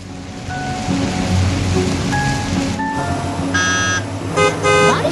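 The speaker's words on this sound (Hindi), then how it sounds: "बारिश की बूंदें कंस्ट्रक्शन साइट पर पड़ रही हैं" Cartoon rain falling on a construction site, a steady wash of droplets pattering throughout, with brief toy-like tonal chimes and beeps rising near the end.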